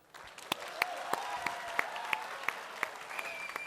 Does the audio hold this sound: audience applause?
yes